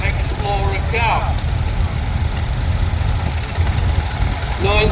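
A 1985 Case David Brown 1394 tractor with an Explorer cab idles and rumbles steadily in a show tractor parade, a continuous mid-low engine drone beneath an announcer's voice over a loudspeaker.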